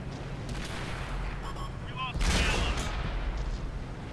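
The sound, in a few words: tank cannon fire in World of Tanks video game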